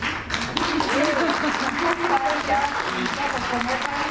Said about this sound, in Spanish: ¿Se vale aplaudir?